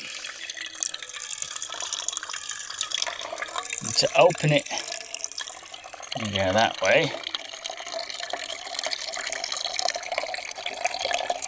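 Water running steadily from the small tap of a 6-litre water container inside a hot tent, trickling and splashing throughout while a person speaks briefly over it.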